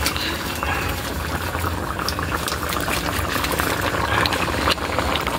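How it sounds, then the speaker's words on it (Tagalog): Salted water boiling hard in a cooking pot, a steady close bubbling and rolling churn that keeps going for the whole stretch, with no talk over it. "Yan o, kumukulo na po mga idol oh."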